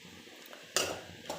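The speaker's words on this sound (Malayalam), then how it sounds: "ഇനി നമ്മുടെ ഉള്ളി ഒന്ന് വയറ്റിയെടുക്കാം നമുക്ക്" Onions being stirred and sautéed in a covered pan for a chickpea curry, a quiet scrape of utensil against the pan with soft frying underneath and a louder burst of stirring partway through.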